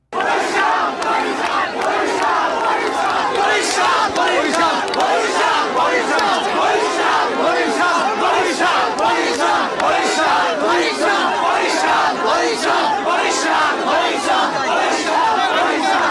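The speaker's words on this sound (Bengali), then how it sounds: "আর সেই সঙ্গে স্লোগান তো চলছেই" Crowd of Fortune Barishal cricket fans chanting slogans together, a loud, steady, rhythmic roar of many voices that runs without pause for the whole stretch.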